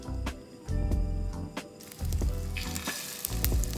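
Flour-and-egg coated Korean round pancakes fry in a pan of oil with a steady, loud sizzle, plus occasional scrapes and taps of a utensil stirring or turning them.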